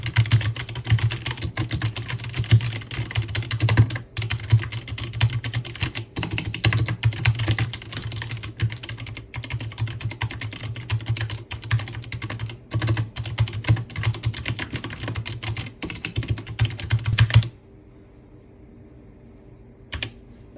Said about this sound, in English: So this is how the blue switches sound.